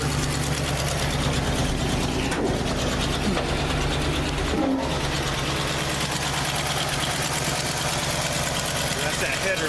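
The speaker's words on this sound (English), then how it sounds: "it's got a little exhaust leak on the passenger side" A 1977 Ford F350 wrecker's steady rumbling engine idles close by, with a rapid ticking, puffing exhaust rhythm from a passenger-side header leak running throughout under some talk.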